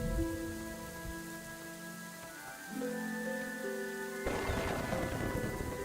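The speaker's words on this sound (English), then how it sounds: "Torrential rains pummeling our land." Torrential rain pummeling the land in the Roman city-building game Nova Roma, a steady hiss of rainfall under soft sustained music, swelling into a louder, denser downpour near the end.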